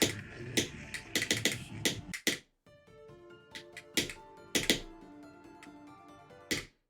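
Sharp key clicks from someone playing a rhythm game, tapping in quick irregular bursts and clusters with brief pauses between, close and fairly crisp, with no talking.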